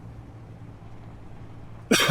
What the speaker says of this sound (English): so that I'm not coughing at everybody